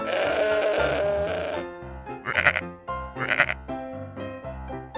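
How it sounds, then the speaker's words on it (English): Sheep bleating from a toy animal slide game: two wavering bleats in the middle, following a noisy burst of clatter at the start, with quiet background rumble between. "Sheep."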